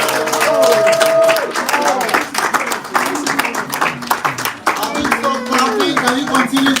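Applause from a conference audience after a political speech in Washington DC, a dense continuous wash of clapping that stays loud throughout, with voices and cheering mixed in.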